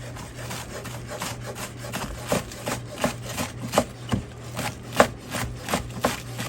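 A knife slicing scallions thin on a cutting board, soft rhythmic chopping taps repeating steadily at close range under a low background hum.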